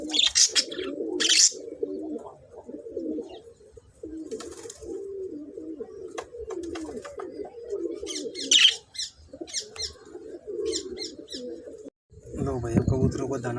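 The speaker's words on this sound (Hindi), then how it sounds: "लो भाई, कबूतरों को दाना डाल दिया है" Pigeons cooing close by while being fed grain on a sunny, windy day, a steady low burbling chorus with occasional sharper chirps from other birds.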